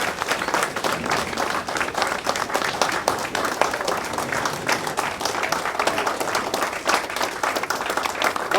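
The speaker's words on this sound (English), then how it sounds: "let's have a big round of applause." An audience at a quarterback club honors banquet bursts into sustained applause, dense overlapping claps that stay even and lively throughout.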